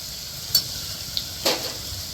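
A spiced raw Totapuri mango methamba mixture cooks in a pressure cooker pan, giving a soft low sizzle with two quick scraping clicks of stirring, near and fairly quiet, no talk.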